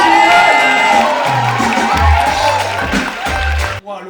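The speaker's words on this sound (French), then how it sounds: "On l'applaudit." An audience in a casual dating-show setting claps and cheers with loud whoops and scattered shouts, a dense burst of crowd noise that cuts off abruptly near the end.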